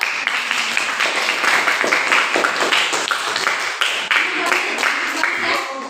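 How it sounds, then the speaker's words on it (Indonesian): Students in a classroom clap together in a dense, steady patter of many hands, fairly close and loud, with voices mixed in. "Tepuk tangan dulu"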